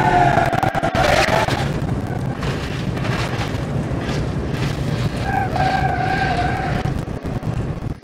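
Drag trucks race in the BeamNG driving game, a loud continuous engine roar with tire skids and whining rises throughout, no talk over it.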